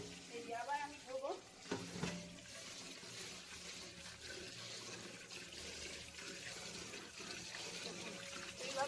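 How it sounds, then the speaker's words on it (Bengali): Biuli dal lentils are rubbed and rinsed by hand in a bowl of water, giving soft swishing and sloshing with a few small clinks, faint and close throughout. "বিউলির ডালটা আমি 5 থেকে 6 বার ধুয়ে নিয়েছি"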